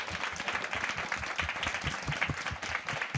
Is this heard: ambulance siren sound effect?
no